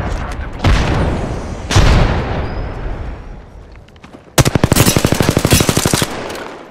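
A frag grenade booms in Apex Legends, trailing into a rumbling decay, then a rapid burst of automatic gunfire rattles out loud and close, with no voices over it.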